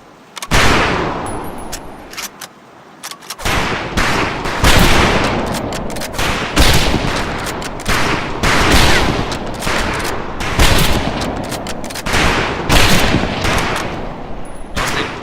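Rifles firing at a shooting range in the video game Medal of Honor Pacific Assault: dense, overlapping volleys of loud sharp shots and cracks that carry on continuously for about twelve seconds after a short quiet start.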